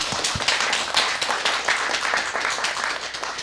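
An audience applauds in congratulation at a Korean literary awards ceremony and year-end celebration, dense steady clapping from many hands filling the room throughout, with a few sharper nearby claps standing out.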